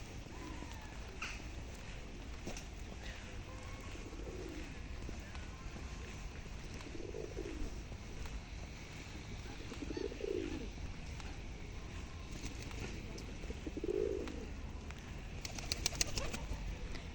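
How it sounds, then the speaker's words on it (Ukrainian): Soft pigeon coos repeat every few seconds over steady outdoor background noise, with a brief flutter of wings near the end. "І голуби."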